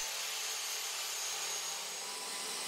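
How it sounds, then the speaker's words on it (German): A band saw cuts a wooden guide rail for the T-slot of its table, giving a steady, loud broadband whir with no pauses and no talk. "Hier säge ich mir die Führungsschiene für die T-Nut am Tisch von der Bandsäge zurecht."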